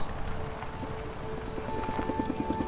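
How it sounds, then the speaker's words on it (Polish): A helicopter in the post-apocalyptic video game Days Gone thrums with a fast rotor chop that grows more distinct toward the end, set against a dense, noisy game backdrop. "Czyli Helikopter, no tak."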